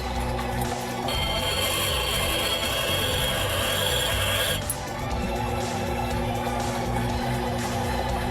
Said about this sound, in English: The first facet that is polished is the table because it's the biggest.